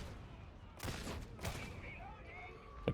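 Bolter gunfire in Warhammer 40,000: Darktide, heavy bursts firing in two or three quick clusters over constant game ambience, loud and close.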